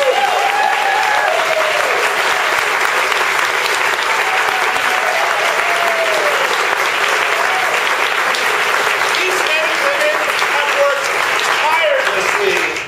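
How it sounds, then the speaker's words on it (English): Audience at an arts organization's season announcement applauding the board: sustained, even clapping from a large crowd for about thirteen seconds, with some voices calling out over it before it stops abruptly. "If I can have all of my board that's here tonight stand up and please give them a round of applause."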